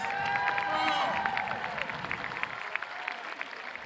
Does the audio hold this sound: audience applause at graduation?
yes